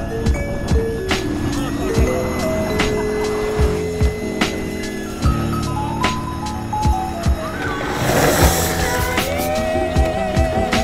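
A longboard rolls over rough pavement with a steady, loud grinding rumble broken by regular clacks from cracks in the surface. Faint voices come through now and then.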